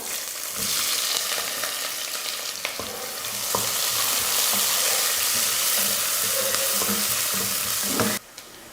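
Lengthwise-sliced onion fries in hot oil with bay leaf, cinnamon and cloves for a chicken biryani: a loud, steady sizzle with scattered stirring knocks, cutting off abruptly near the end.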